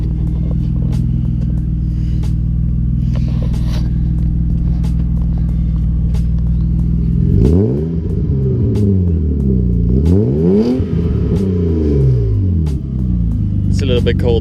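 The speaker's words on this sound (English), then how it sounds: "Can you rev it up for me, please?" A car with a new exhaust idles with a deep steady rumble, then revs up and down several times, pitch sweeping up and falling back in loud close bursts.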